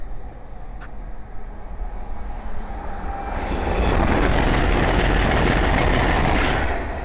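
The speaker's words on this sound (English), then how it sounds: "the next train to pass by is the Hull Trains 802 going from London King's Cross to Hull" Hull Trains class 802 train, unit 802305, passing at Langford on the East Coast Main Line, building from a steady background rumble into a loud, broad roaring rush that holds through the end.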